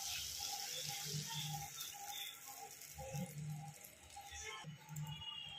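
Water is poured from a vessel into mustard paste in a pan while making shorshe elish, a soft, quiet trickling and splashing that continues with faint clinks in the background.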